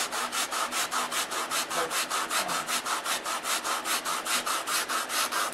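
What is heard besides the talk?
sanding balsa wood block wingtips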